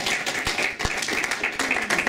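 A small audience claps in a scattered, uneven burst at a graduation gathering, the taps fairly close and steady for a couple of seconds.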